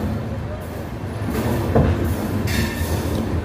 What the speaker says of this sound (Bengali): ট্রেন আমাদের ছেড়ে দিলে একদম রাইট টাইমে 3:25 রূপসী বাংলা সুপার ফাস্ট।